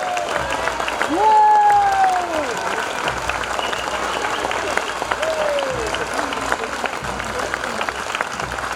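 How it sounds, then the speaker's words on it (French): Crowd lining the boulevard at a Celtic festival applauds a passing pipe band, a steady wash of clapping and cheering throughout, with faint whistle-like tones over it. "Applaudissements mérités, s'il vous plaît, tout le boulevard, s'il vous plaît"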